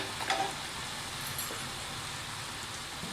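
Steady sizzle of hot frying oil as a rose cookie mould heats in it, a continuous crackling bubbling hiss with no voices.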